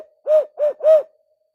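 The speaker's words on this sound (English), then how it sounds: "if you listen to barn owls hoot" Three deep, hollow owl hoots, identified as a barn owl, come in quick succession at night in Larue County, Kentucky. They are clear and fairly close against silence, and the last hoot is slightly longer.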